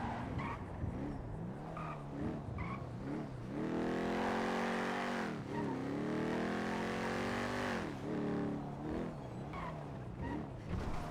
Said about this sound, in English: This car seems fucked, but it's not. It's just slow and quiet.